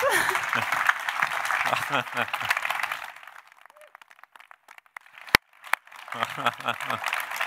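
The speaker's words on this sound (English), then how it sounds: "Big round of applause." A stage audience at an event presenting a new class of ESA astronauts claps in a broad, dense burst, then fades out, with people talking over the applause.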